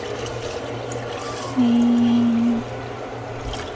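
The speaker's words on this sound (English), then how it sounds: "I'm gonna add more water. Okay, this is about 9 cups more." Water is poured into a pot for cheese and potato soup in a kitchen, a steady liquid rush lasting about a second amid background hiss, with a brief spoken word.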